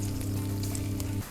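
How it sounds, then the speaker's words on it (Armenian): Sliced pears frying in butter with a little sugar in a pan, giving a close, crackling sizzle over a low steady hum that cuts off abruptly near the end. "կարագ, մի փոքր շաքարավազ եւ տապակում ենք շերտատած տանձը"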